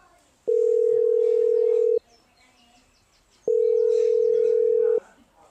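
Telephone ringback tone from a phone call, two long steady beeps about a second and a half each, separated by a pause, loud and close, with faint background sounds between them.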